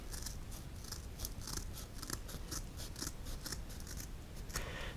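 Scissors snip repeatedly through a strip of material on a model railway layout, giving a steady run of crisp close cuts with no talk.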